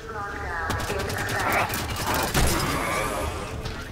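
Rapid gunfire bursts from a firefight in the Halo 5: Guardians video game, loud and close, with rattling automatic shots, sharp impacts and a brief booming hit, dense and continuous over a few seconds.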